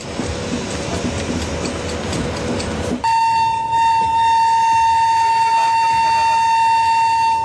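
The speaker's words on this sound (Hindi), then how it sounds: "ट्रेन नई दिल्ली रेलवे स्टेशन से निकली ही है" Bhopal Shatabdi Express pulling out of New Delhi railway station in dense winter fog: a rumbling, rattling run gives way after a few seconds to a loud, sustained horn blast.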